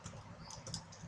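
Quick keystrokes on a computer keyboard, a short burst of soft clicks close by, faint and alone.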